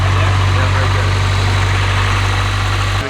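Nissan Silvia S15 VVL engine idling steadily right after its first start-up, a loud, even rumble that holds throughout.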